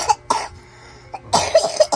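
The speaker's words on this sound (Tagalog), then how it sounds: "May ubo si baby." A baby's few short coughs sound close to the microphone, two quick ones at the start and a cluster of small coughs after a brief pause.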